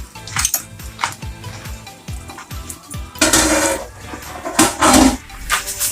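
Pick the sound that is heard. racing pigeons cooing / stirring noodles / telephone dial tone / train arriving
stirring noodles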